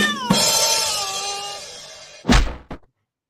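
A loud, long drawn-out meow from a heavy house cat sounds close to the mic, followed by two sharp thumps near the end.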